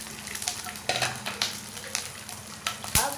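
Curry leaves and green chillies sizzle and crackle in hot oil for an eggplant sabzi, a steady close frying hiss with scattered pops and stirring scrapes, no talk.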